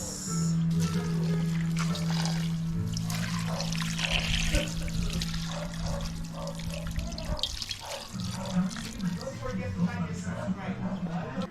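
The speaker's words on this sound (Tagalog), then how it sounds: "Lagyan na natin ng tubig guys." Water is poured steadily into a cooking pot for a backyard crispy pata (pork hock), a continuous splashing pour running for several seconds over a low steady hum.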